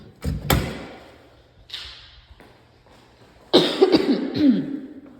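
Several sharp coughs, a burst at the start and another cluster near the end, close and fairly loud with quiet gaps between.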